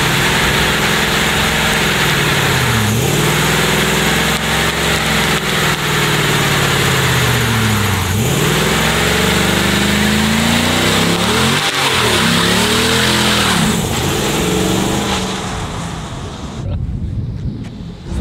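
A rented Dodge Ram pickup revs hard and loud through a tire burnout, the engine rising and falling in repeated surges over steady wind and tire roar, fading out abruptly near the end.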